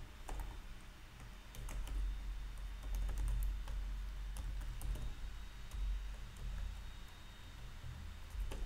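Code is typed on a computer keyboard in a steady run of quick, light key clicks at close range, fairly quiet over a low background hum, with no voices.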